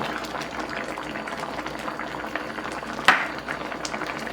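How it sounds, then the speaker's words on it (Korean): Braised cutlassfish and potato stew boiling hard on high heat in a pot, a steady dense bubbling simmer throughout, with one brief clink or tap partway through. "지금 갈치조림을 한 10분 정도 센 불로 끓여줬거든요"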